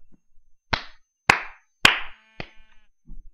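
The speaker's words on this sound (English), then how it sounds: "Yes, applause." A few sharp, separate claps ring out, four or five slow smacks spaced about half a second apart, with quiet in between.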